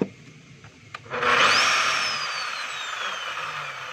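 A DeWalt D25811 5 kg demolition hammer, just repaired, kicks on after a brief click. Its motor spins up to a steady, loud, whining drone with no hammering blows, and the drone holds to the end.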